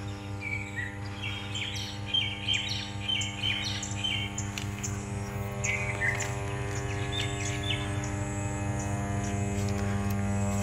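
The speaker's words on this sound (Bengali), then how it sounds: "এই মেশিনটা এখনো শব্দ পাচ্ছি" A machine at a gas turbine power station in Barisal gives a steady, loud, even drone that runs throughout, with birds chirping and tweeting faintly above it.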